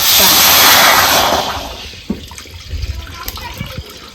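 Water gushes and splashes into an iron griddle for a couple of seconds, then settles into lighter trickles and small sloshing sounds.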